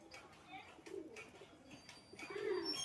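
Pigeons of the Aliola 35 and Shiyalkuti breeds coo softly in a few low, rounded bursts, faint and close, with the last call swelling louder.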